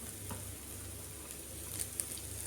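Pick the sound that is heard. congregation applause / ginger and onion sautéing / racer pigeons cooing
ginger and onion sautéing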